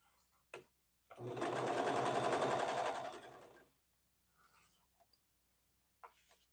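A sewing machine runs a single steady burst of stitching for about two seconds along a leggings seam, with soft whispery talk and small clicks before and after in a quiet room.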